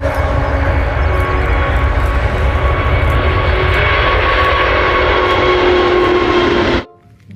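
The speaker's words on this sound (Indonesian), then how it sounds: "lihat teman-teman, ada pesawat terbang." An airplane is heard flying overhead with a loud, steady engine roar and drone lasting several seconds before cutting off abruptly.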